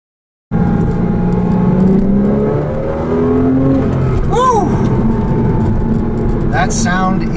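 A roughly 300-horsepower mid-engine sports car weighing about 2,975 pounds, its engine starting up abruptly and pulling hard with a loud, rising rumble close by while people talk over it.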